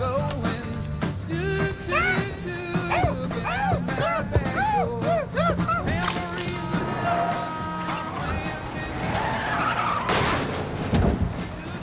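A car skids in a scene from the film The Big Lebowski, with loud, sustained tire squeals and engine noise layered over other film sound for several seconds.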